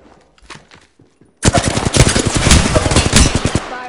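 Rapid automatic gunfire in the Apex Legends video game erupts after a few scattered shots, a loud, dense burst of close rattling fire that keeps going to the end.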